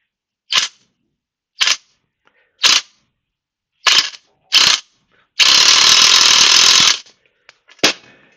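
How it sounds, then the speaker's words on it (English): An impact wrench hammers at a footrest bolt on a Quickie wheelchair, firing five short separate bursts, then a sustained rattling run of about a second and a half, and a final short burst, loud and close. "I'm going to try an impact wrench for a start to see what that does."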